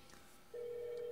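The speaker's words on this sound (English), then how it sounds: "So it's ringing both phone and this device." A single steady electronic phone ring begins midway and holds, fairly faint against a quiet background.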